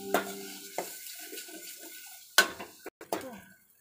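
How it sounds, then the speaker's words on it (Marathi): A spoon scrapes and clinks against a pan while masala is stirred into vegetable curry, a few sharp metallic knocks among soft scraping, quiet and close with pauses between strokes. "आपण मगाशी बघितलेले मसाला भाजीमध्ये टाकून घेऊया. आता मस्त आपण मिक्स करून घेऊया."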